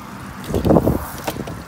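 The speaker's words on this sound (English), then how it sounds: "So sorry about the wind. It's gonna be a little loud." Wind buffets the microphone outdoors beside a pond, a steady low rumble that swells into a louder gust midway, then eases back with a smaller burst near the end.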